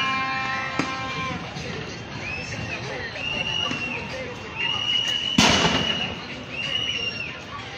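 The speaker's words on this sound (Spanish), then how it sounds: "Disparos al aire, pero disparos intimidantes." Police firing gunshots into the air during a street protest in Cali, Colombia: a few sharp cracks, one loud close burst, over constant crowd noise, whistles and shouting.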